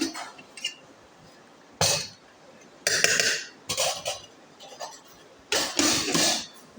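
Rice and home-cooked dishes being served onto a plate, with a few separate bursts of cutlery scraping and clinking against dishware between quiet pauses, close and moderately loud.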